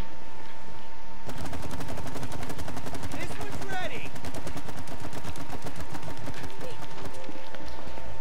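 Rapid gunfire in the co-op video game It Takes Two as shots are aimed at a bridge, a dense rattling burst running through most of the scene over game music and effects, with people talking.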